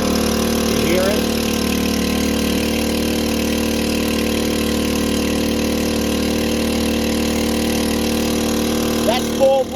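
A small Predator gasoline engine runs steadily at a near, constant drone while driving a pump that pulls maple sap out of a barrel outdoors.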